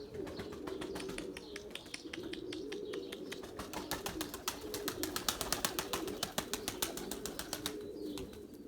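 Erzurum white pigeons on a rooftop, soft cooing under a rapid, rhythmic clatter of flapping wings that builds and grows louder through the middle before easing off.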